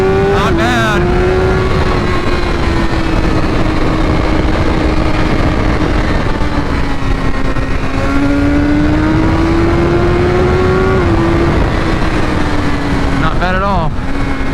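A 2016 BMW S1000R motorcycle with a flash-tuned ECU roars at high revs on a dyno, a loud sustained engine drone holding steady pitch for many seconds with brief shift-like dips and rises near the start and end.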